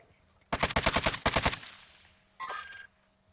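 Rapid bursts of pistol gunfire in a first-person shooter match: a quick volley of about a dozen sharp shots, followed after a pause by a short electronic game chime.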